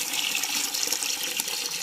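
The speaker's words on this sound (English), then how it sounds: "Here I added more water." Water pours steadily into a bucket for a classroom chemistry demonstration of combination reactions, a continuous close hiss and splash with no talking.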